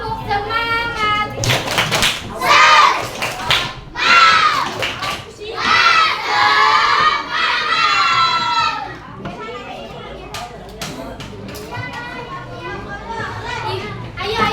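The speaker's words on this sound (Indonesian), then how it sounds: "Tepuk semangat." Third-grade elementary schoolchildren in a classroom doing a rhythmic spirit clapping chant, with loud group shouting and bursts of patterned claps, followed by scattered chatter and lighter claps as the noise settles.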